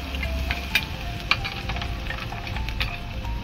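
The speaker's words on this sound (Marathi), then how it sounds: "आपण तूप टाकूया अगोदर। आले लसणाची पेस्ट टाकू," Ginger-garlic paste sizzles steadily in hot ghee for a home-cooked sweet corn soup, a close, continuous frying hiss with a few sharp spatula clicks against the pan.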